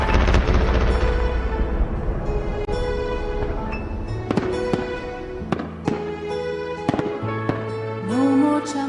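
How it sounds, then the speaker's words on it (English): New Year's fireworks burst in a dense, continuous barrage of sharp cracks and booms, with a few louder individual bangs standing out and a whistling rocket rising near the end. "Now we need the fireworks that goes."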